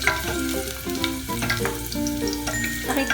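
Garlic sizzles in a pan for oatmeal congee, a continuous crackling fry with stirring scrapes and small bursts throughout, close and fairly loud, with no talking.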